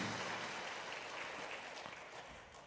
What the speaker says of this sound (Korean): 하나님 앞에 영광의 박수 올려드립니다.